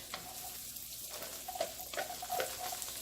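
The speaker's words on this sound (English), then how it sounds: "just to infuse into the oil, and then I put my shallots in it" Shallots fry in garlic-infused oil as a soft, close sizzle, with a few brief stirring scrapes and clicks near the end and no voices.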